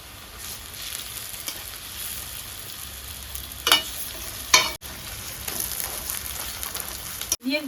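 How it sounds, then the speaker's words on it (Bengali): Boiled potatoes land in a pan of frying onions and green chillies, giving a steady close sizzle with a few stirring scrapes and clatters. "দিয়ে দিচ্ছি পেঁয়াজ লঙ্কা, পেঁয়াজটা হালকা লাল লাল করে ভাজা হয়ে গেছে"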